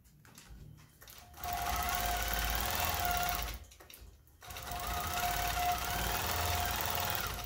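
A long arm quilting machine stitching along a curved ruler, with a steady, fast mechanical hum in two long runs separated by a brief pause, close and clear, with no talk.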